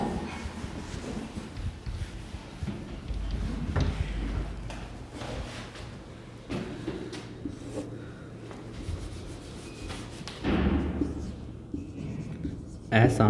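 Rubbing strokes of a duster erasing writing from a classroom board, repeated scrapes and swipes in an irregular rhythm, close and moderate in level, with someone talking throughout.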